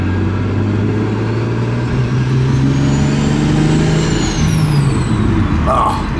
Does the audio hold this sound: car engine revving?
yes